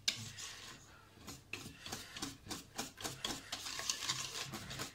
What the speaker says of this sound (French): Donc on va bien mélanger.